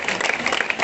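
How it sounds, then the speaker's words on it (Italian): A crowd applauds at the opening of a fish festival in Chioggia, a brief burst of dense clapping heard over a short moment. "facciamo un applauso"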